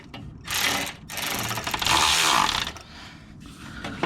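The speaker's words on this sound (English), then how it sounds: "now put the ratchet through there" A ratchet works during a starter replacement on a Mercedes ML W163 SUV, making rough mechanical bursts of rapid clicking and grinding that swell and fade in short runs, close by.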